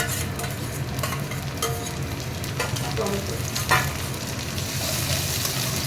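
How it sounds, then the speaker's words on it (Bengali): Tomatoes go into a pan of onions already fried until browned and are stirred, giving a steady, close sizzle with scraping spatula strokes and a faint hint of voice in the background. "এই যে পেঁয়াজটা লাল করে ভাজা হয়ে গেছে, এবার আমি টমেটোগুলো দিয়ে দিলাম।"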